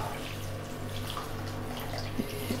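Water is poured into mutton biryani cooking in a hot kadai, giving a continuous hissing, splashing wash at a steady level with a low hum beneath and a couple of small clinks near the end.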